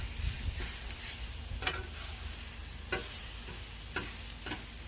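Chopped onion and garlic brown in a pan, giving a low even sizzle close up with a few light ticking clicks of a utensil at irregular intervals; no one speaks.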